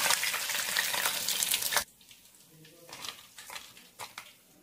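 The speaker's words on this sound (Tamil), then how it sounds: "பாருங்க, நம்ம நல்லா ஃப்ரை ஆயிடுச்சு" Chicken pieces deep-fry in hot oil for chicken Manchurian, a loud broadband sizzle for nearly two seconds that then drops to a quieter crackle with light utensil scrapes and clinks, no voices.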